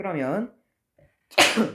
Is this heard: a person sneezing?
yes